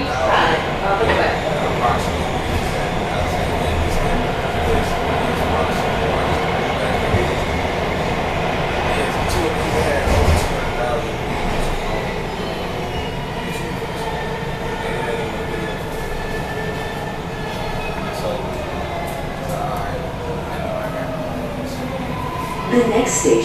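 MARTA Blue Line subway train running between Vine City and Five Points, a steady rumbling roar of wheels on rails with rhythmic clatter and faint squeals throughout, heard from inside the car, with brief announcement speech.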